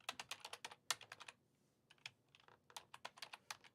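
Rapid typing on a computer keyboard, quick bursts of crisp clicking keystrokes with a short pause in the middle, close and fairly quiet, with no talking.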